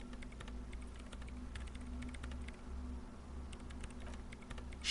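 Keyboard keys are tapped in a quiet room during Disco Elysium play, soft rapid clicks in short clusters over a low steady hum.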